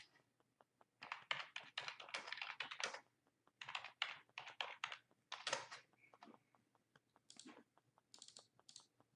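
Typing text on a computer keyboard: a quick, irregular patter of key clicks that comes in bursts with short pauses, fairly close and on its own with no talking.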